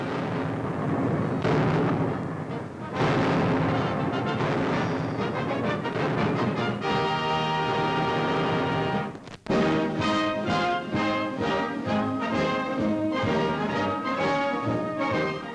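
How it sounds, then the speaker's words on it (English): WWII artillery fire on Guadalcanal, heavy booming blasts in a loud, dense barrage with repeated bursts and a brief break partway through, mixed with a dramatic orchestral score. "Artillerymen back up the infantry, blasting the Japs from the island."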